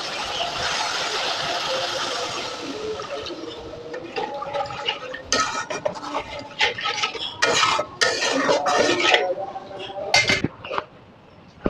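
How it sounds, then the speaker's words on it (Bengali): Water is added to a spiced shrimp malai curry masala in a pan, with a soft pour giving way to clinks, scrapes and stirring of utensils against the pan, close and busy, with no talking. "এবার জল দিয়ে দেবো পরিমাণ মতো।"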